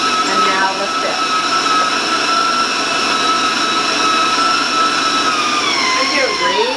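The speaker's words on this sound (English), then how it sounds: "I'm going to raise my mixer up with the speed, so I'm going to warn you about the sound" A high-speed electric stand mixer whirs loudly while beating rum butter cake batter, a steady close motor whine holding throughout with slight pitch shifts, and no other sounds.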